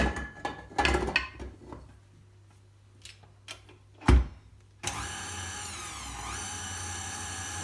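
Stand mixer fitted with a dough hook starts up and runs steadily kneading sourdough, a continuous whirring motor drone after a few knocks and clatters of handling beforehand.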